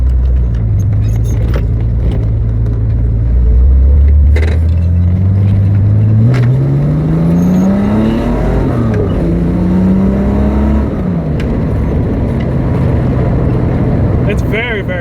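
A 1973 Datsun 240Z engine drones steadily, dips as the car turns around, then revs up through rising gear pulls, heard loud from inside the cabin with a voice talking over it.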